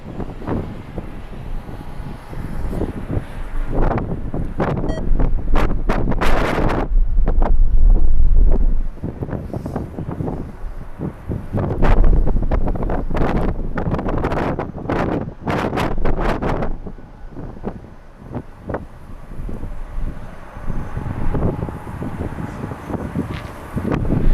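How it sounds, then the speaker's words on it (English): Strong gusty wind blowing at LAX airport, loud rumbling buffeting across the microphone that surges and eases in heavy bursts throughout. "The wind is definitely picking up."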